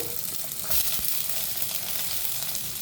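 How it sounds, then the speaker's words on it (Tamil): Onions and curry leaves fry in oil in a pan with mustard seeds and fenugreek for egg curry, a loud continuous hiss with a few faint stirring scrapes, close and without speech. "அடுத்தது வந்து வெங்காயத்தை போட போகிறேன் வெங்காயம் கருவேப்பிலை"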